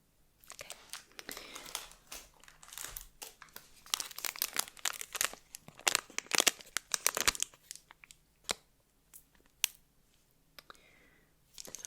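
Halloween candy wrappers crinkled and crumpled up close, with bursts of dense plastic rustling and tearing that come and go in uneven waves, some quiet pauses between handlings, and no voice.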